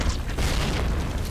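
Explosive projectiles thrown at the player burst in the PC video game Burning Thirst, a dense low boom rumbling continuously and loudly throughout.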